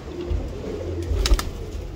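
Pigeons in a loft, low soft cooing close by in short throaty bursts, with faint higher chirps in the background.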